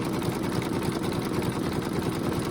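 An embroidery sewing machine restitches a stitch, its needle pounding in a fast, even rhythm at close range, steady and mechanical with no talking.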